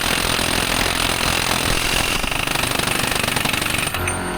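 Rapid metallic hammering, likely from staking the axle nut during a front wheel bearing replacement on an Alfa Romeo Stelvio or Giulia. The strikes are loud, close and steady, and no one speaks.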